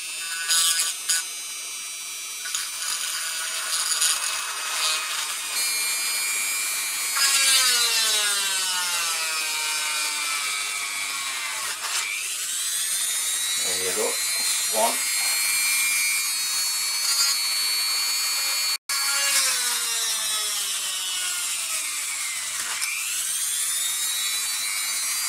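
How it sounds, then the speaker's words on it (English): A small drill bit whines into a Ruger 10/22 rifle stock, an Archangel AA556R, rising and falling in pitch as it bites and eases off, with several distinct passes of close, steady drilling and no talk. "I'll just use a small drill bit to start with because I don't want to make a mess of it, and just widen out then."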